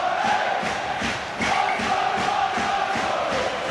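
Rugby league crowd at the Halliwell Jones stadium, Warrington v Wigan cup tie, a large roaring cheer swelling with rhythmic pulses and chanting voices, sustained and loud throughout.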